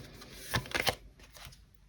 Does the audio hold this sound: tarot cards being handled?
yes